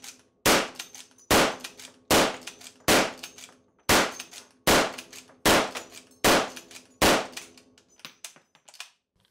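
Rifle rounds loaded one at a time and a bolt worked on a British rifle in the Hell Let Loose video game: about ten sharp, evenly spaced metallic clacks, loud and close, with no talk.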